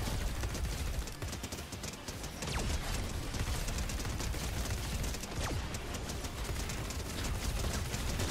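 Rapid Nocturno rifle fire and explosions in a video game, heard as dense, continuous crackling bursts with booming hits, loud and unbroken across the whole stretch.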